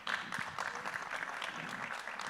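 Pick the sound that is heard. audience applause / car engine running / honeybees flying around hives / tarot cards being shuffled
audience applause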